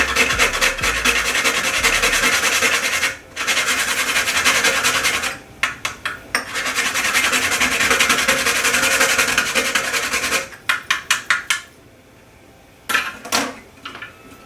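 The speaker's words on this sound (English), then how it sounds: "So I'll grate a piece of nutmeg also for the rice and peas." A piece of whole nutmeg is grated by hand for Jamaican rice and peas, giving steady, close rasping strokes in long runs, broken by brief pauses and a few short quick scrapes near the end.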